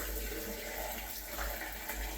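Water pours and gurgles steadily down a basement floor drain, a continuous close rushing flow with no voices over it.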